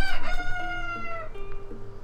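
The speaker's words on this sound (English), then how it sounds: "They have the rooster's crow." A rooster in the video game Zelda: Tears of the Kingdom crows once, loud and close, with a long drawn-out call followed by a few softer clucks and no talking.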